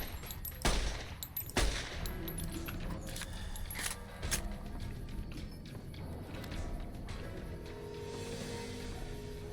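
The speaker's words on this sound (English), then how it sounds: "Ignore me shooting them in the groin." Gunfire in Fallout New Vegas arrives as a few sharp, separated shots near the start, followed by softer clicks and thuds over a quiet game-world background, with no talking.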